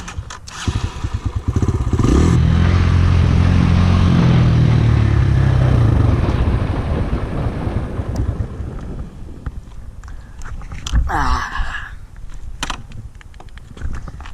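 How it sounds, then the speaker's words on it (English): A dirt bike engine lugs in too high a gear, chugging loudly and close for a few seconds before dying out into wind and clatter, then stalling. "So I'm gonna show you what it sounds like when it's chugging."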